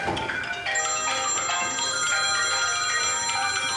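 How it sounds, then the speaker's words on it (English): Many cell phone ringtones overlapping into a dense cacophony, bright electronic melodies and ringing tones piling on top of each other continuously and loudly. "A cascade of cell phone ringtones begins, slowly at first, and gradually progressing to a complete cacophony."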